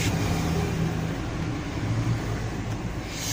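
A GAZelle van engine idles steadily, a low continuous rumble heard close up with a faint drone from the motor and no speech.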